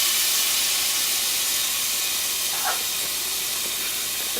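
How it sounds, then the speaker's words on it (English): Finely minced garlic hits hot chicken pan drippings for chicken piccata, giving a steady, even sizzling hiss that holds close and constant for the whole stretch, with no voices. "To these drippings, I'm going to go ahead and add 2 cloves of finely minced"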